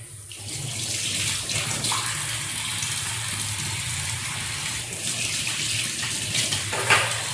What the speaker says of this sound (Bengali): চায়ের কাপ আর মিক্সি ধুয়ে রাখবো, তার জন্য বেসিনের মধ্যে রাখলাম।